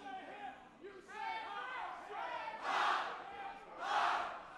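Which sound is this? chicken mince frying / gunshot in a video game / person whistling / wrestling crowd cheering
wrestling crowd cheering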